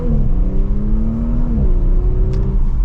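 A 2024 Audi S5 Sportback Prestige S-Line with a manual gearbox and all-wheel drive accelerates hard from inside the cabin, its engine note climbing steadily, dipping at a shift, then climbing again, loud and close.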